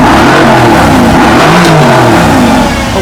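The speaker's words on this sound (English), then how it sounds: "Take a listen to this car just in comfort mode." A Mercedes-AMG GT R in comfort mode revs hard and close, its exhaust note rising and falling through loud, throaty acceleration with no talking.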